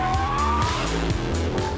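An Audi R8 with a V10 engine sliding sideways in a drift, its engine droning loud and steady as the revs rise and dip, with faint tire scrubbing mixed into the roar.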